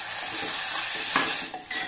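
Spices sizzling and frying in a clay pot while being stirred, a close, continuous hiss with scraping strokes of the spoon against the pot and no talking.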